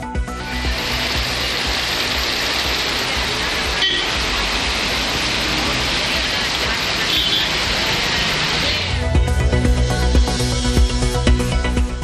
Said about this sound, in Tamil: வட மாவட்டங்களில் பல இடங்களில் வெளுத்து வாங்கிய கனமழை